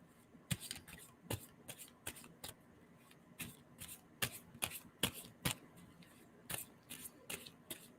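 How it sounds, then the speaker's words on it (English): Tarot cards are shuffled quietly in quick riffling bursts, an irregular run of soft flicks and slaps close by, no voices. "And tell me to stop shuffling."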